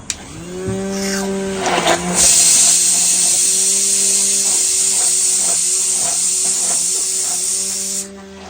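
A kitchen blender whirs gram flour batter for kadhi: a couple of short bursts, then a loud, steady high-pitched whine for about six seconds before it cuts off.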